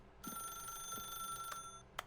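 A telephone rings in the video game The Stanley Parable, a steady, bright electronic trill sustained for nearly two seconds, fairly faint, with soft background tones and a short click at the end.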